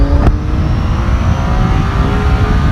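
A 2011 Triumph Tiger 800 XR motorcycle engine pulls steadily at around 90 km/h on an expressway, a loud continuous drone with rising tonal whine and heavy wind rumble, no voices.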